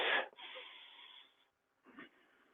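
Deep, deliberate breaths drawn into the bottom of the lungs during an exercise routine: a long, airy inhale of about a second and a half, a brief pause, then a softer breath, close and moderately loud.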